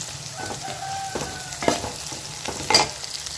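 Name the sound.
onions and green chillies sautéing in a pan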